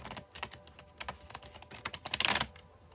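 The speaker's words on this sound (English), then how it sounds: "these are so hard to shuffle. They're just a little too big." Large, oversized tarot oracle cards being shuffled by hand, producing a run of quick papery riffling bursts that build to a dense flurry near the end, close and fairly quiet with no talking.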